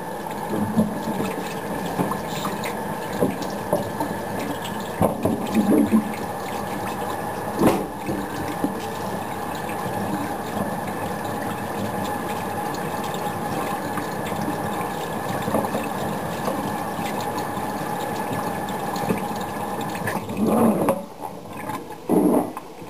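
Water is poured steadily to soak a vermiculture bag, a continuous trickling and splashing that runs for the whole stretch, with a few louder surges and some handling noise near the end.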